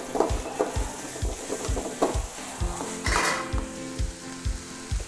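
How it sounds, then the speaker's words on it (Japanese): Onions stir-fried in a wok for Thai gapao rice, with a loud, continuous sizzle under a steady rhythm of metal spatula clacks and scrapes against the pan. One burst of louder scraping and tossing comes partway through; close by, no voices. "でちょっとさっと炒めてね、はい、玉ねぎの甘みをねちょっと出しましょう。"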